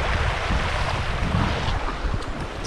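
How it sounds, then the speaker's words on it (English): A river in the Adirondacks of New York flows past a riverside campsite with a steady, loud rushing wash, mixed with gusty wind buffeting the microphone and no voices. "Down to this river."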